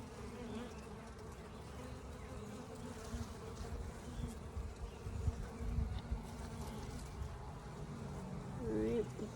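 Honey bees drone in a dense, continuous buzz around an open hive during a brood box check, steady and fairly close, with a few brief low bumps and handling noises scattered through.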